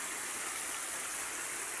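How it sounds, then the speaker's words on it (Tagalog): Kalibong Falls, a waterfall in San Nicolas, Pangasinan, gives off a constant broad rushing roar of falling water, dense and steady without a break. "Kalibong Falls"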